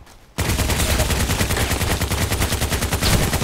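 An RPK machine gun fires in the online shooter Contract Wars: a loud, close, sustained burst of rapid automatic shots that starts abruptly after a brief quiet moment and runs to the end.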